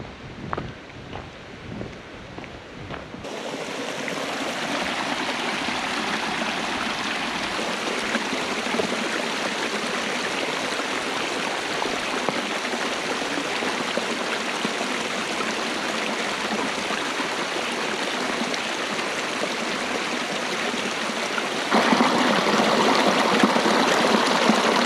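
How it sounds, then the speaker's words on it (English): A stream flows along the Appalachian Trail in Shenandoah, its steady broadband rush of water filling the scene after a few seconds of quiet footsteps, continuous and fairly close, swelling slightly louder near the end. "Oop, I think I can hear water."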